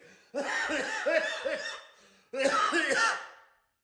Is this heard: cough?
yes